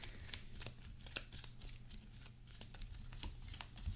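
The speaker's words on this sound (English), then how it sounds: "shuffle them up" Marvel Champions LCG cards being shuffled up close: a steady, dense run of riffling and flicking strokes that carries on for several seconds with no talking.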